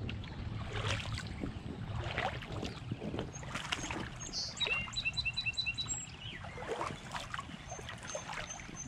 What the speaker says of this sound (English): Birds love this place.